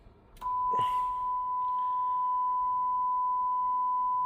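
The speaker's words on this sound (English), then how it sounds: "we're getting a nice clean sine wave, and of course you can hear the tone." A steady pure sine test tone from a signal generator plays through a Denon AVR-X1200W stereo receiver's left channel, starting abruptly after a brief click and holding at an even, constant pitch and level, alone without talk.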